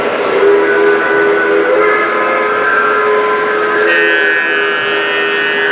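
A Lionel model GG1 locomotive on a railroad museum layout sounds a sustained, loud, chord-like horn that shifts pitch partway through, steady against running-train noise.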